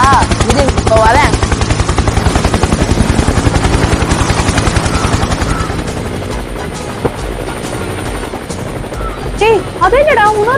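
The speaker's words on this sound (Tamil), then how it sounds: "டேய் அதே என்னடா இன்னொரு ஹெலிகாப்டர் வருது?" A miniature toy helicopter in a comedy skit gives a loud, rapid rotor chop that dominates at first and then drops away, with people talking over and after it.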